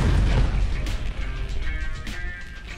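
Mini pyrotechnic charges go off in a loud, deep boom at the start, then fade into a rumbling decay with a few smaller cracks and pops scattered through the tail.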